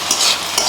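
Saag leafy greens being stirred in a pan on a gas stove at home, a close, steady scraping and stirring over a soft frying sizzle, with two brief louder strokes.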